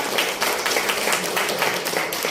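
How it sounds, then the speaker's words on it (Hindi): Steady, dense applause from an audience welcoming Rakhi Hajela to receive a dedicated-youth award at an arts event, many hands clapping loudly and evenly throughout with no voices over it. "जोरदार तालियां"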